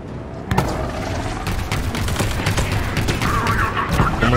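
Sniper gunfire in the video game Halo Infinite, a sharp loud crack followed by a dense ongoing barrage of shots and booms, close and harsh, with no talk over it.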